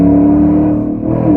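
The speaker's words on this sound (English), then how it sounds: "Even when I just gave it a little bit of gas, it revved up real high and then dropped back down." A truck engine with a throttle control mod runs loudly close by, its steady tone dipping briefly and then rising again as it revs.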